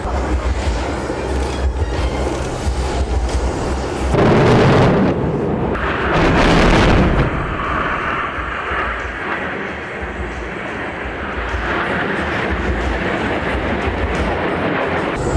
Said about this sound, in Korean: 적 기계 화부대를 공격하기 위해 FA-50 편대가 진입 중입니다.